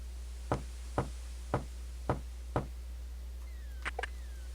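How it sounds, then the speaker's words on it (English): Five evenly spaced knocks rap on the ferryman's wooden door in the adventure game King's Quest VI, crisp and close over a low hum, followed by a couple of faint, brief game tones. "So we're going to knock on his door and see what he has to say to me."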